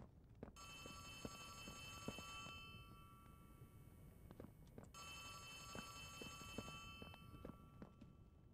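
Telephone ringing in the horror video game Poppy Playtime: two long bursts of a bright electronic ring, faint and distant, over scattered footsteps and clunks.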